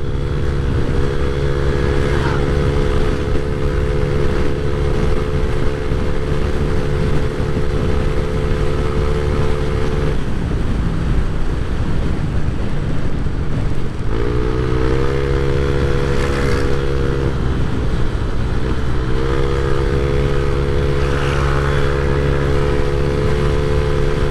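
A Honda Click scooter with an upgraded throttle body and fuel regulator, its engine droning steadily close by and revving up repeatedly in surges. At the top of the revs it sounds strained, as if short of fuel or air.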